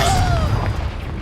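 A Confringo spell explodes in Hogwarts Legacy, a loud, deep booming blast that fills the moment and rolls off, with a faint descending whistle trailing over it.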